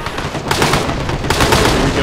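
Gunfire and artillery from the Vietnam War game Medal of Honor at the Battle of Khe Sanh roll out as a dense, continuous barrage, with heavy bursts swelling twice and rapid shots layered beneath.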